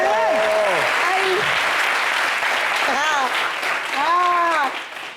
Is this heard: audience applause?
yes